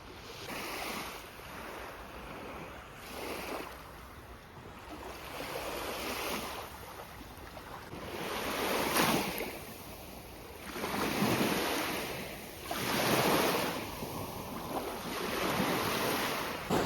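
Sea waves rolling onto a beach near Chornomorsk in the evening, with slow surges of surf and wind rush rising and falling every few seconds, moderately distant with no talking.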